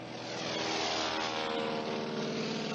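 A propeller airplane descends just above stalling speed toward a water landing, its engine a loud, steady drone filling the space throughout.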